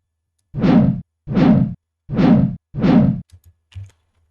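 Monster attack sound effect from the video game Ragnarok Online, four short, thumping whooshing bursts at an even pace, followed by a few faint soft clicks.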